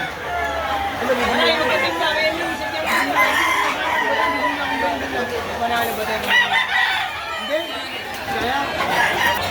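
Roosters crow and hens cluck throughout a rain-day poultry market where chickens are sold, the birds loud and near while several people talk over and around them.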